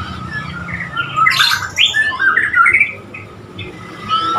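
A Borneo magpie-robin (murai) in training gives loud, close squawks and chirps in a bright burst of varied calls, alone and without talk.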